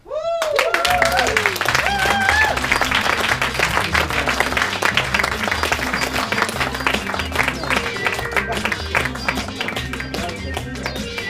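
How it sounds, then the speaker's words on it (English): Theater audience giving a clown a big round of applause at a clown slam show, dense sustained clapping filling the room steadily, with some cheering and a voice heard at the very start. "A big round of applause"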